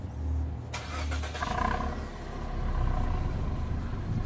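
A Toyota Yaris iA engine with its original exhaust starts up and settles into a steady, rumbling idle with a deep exhaust note, close by and loud, with no talking.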